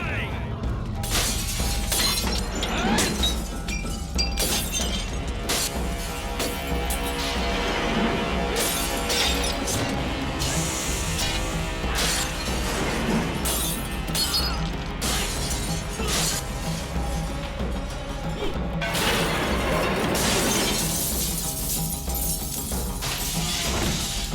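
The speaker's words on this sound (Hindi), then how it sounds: "कौन है जो यहाँ आकर तोड़ फोड़ कर रहा है?" A house being smashed up by intruders in a dramatic film scene, a long dense stretch of breaking and shattering crashes layered with loud music and shouting voices, constant and loud throughout.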